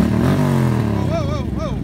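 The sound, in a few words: motorcycle engine running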